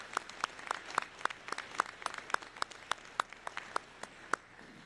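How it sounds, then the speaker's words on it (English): A graduation commencement audience breaks into applause, a quiet hall of steady, rhythmic clapping from a modest crowd heard at a distance, fading toward the end. "please join me in a round of applause in appreciation for all that has been accomplished in bringing our graduates to this moment"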